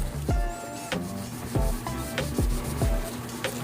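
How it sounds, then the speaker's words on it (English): A cloth wiping grease off a matte-finish wheel, giving rhythmic close rubbing strokes at a slow, even pace with no voices. "Wipe away any of this grease that they put on here to sort of help you get the best bead."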